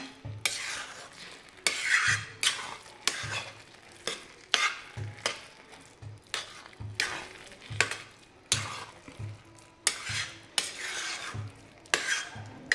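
Grainy carrot halwa being stirred in a pan over medium heat, rhythmic scraping strokes of a spoon repeating about once a second over a soft sizzle, close and fairly quiet, no voices.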